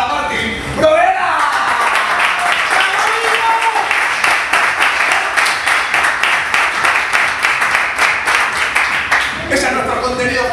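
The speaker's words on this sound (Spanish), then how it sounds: "¡Fuerte aplauso para Martín Provera!" Live audience applause for a performer being introduced at an improv comedy show, a steady roar of many hands clapping for about ten seconds with some cheering and laughter mixed in, loud and close.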